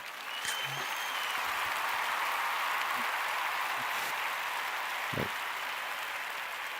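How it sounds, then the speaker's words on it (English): A small group claps for Jordan, giving steady, even applause that sounds somewhat faint and distant and lasts throughout without a break. "Clap for Jordan"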